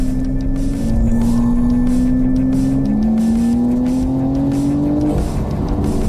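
A Porsche engine in its normal sound mode revs up loudly and close, rising in pitch through two long pulls with a brief shift in between.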